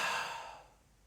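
A single close, breathy exhale during a ribcage breathe-and-reach exercise, soft and sigh-like, fading out over about a second.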